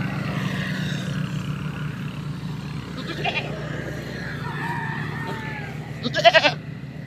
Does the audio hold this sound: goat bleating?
yes